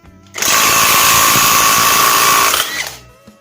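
A NAGAWA NCI350U 350 Nm brushless impact wrench loosening a nut gives one sustained, loud burst of rapid hammering and whirring that lasts about two seconds and then stops abruptly.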